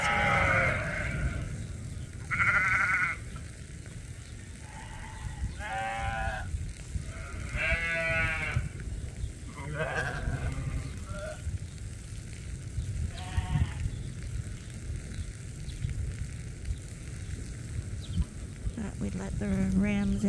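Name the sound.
sheep bleating on a farm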